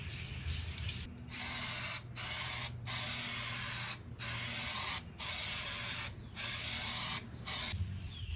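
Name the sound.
spray coating a rusty metal chair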